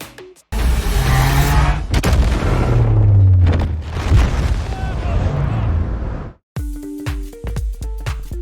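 A thermonuclear hydrogen bomb test explosion in a Godzilla film: a huge roaring blast with deep rumbling that sustains for several seconds, cuts out briefly, then returns with lingering tonal rumble and echoing booms.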